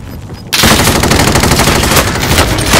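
Rapid automatic gunfire in a battle royale game bursts in after a brief quiet moment, then rattles on loud and unbroken at close range with no talk over it.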